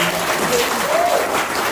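Audience applause for colleagues at an Indonesian gathering on body immunity, a steady dense clapping from a crowd filling the room, loud and continuous, with faint voices and a brief whistle-like tone over it.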